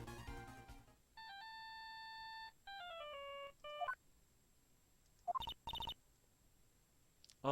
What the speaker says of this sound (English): she also received a phone call from the owner of the phone